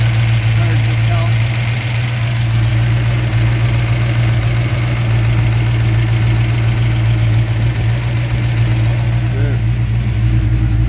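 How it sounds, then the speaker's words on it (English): A Mopar 340 V8 idles close by with its vacuum advance plugged, the engine prone to stalling once warm. Its exhaust holds a steady, loping low rumble throughout, and faint voices can be heard underneath. "Love the sound of the exhaust."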